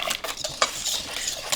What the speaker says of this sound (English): just going to give this a little stir here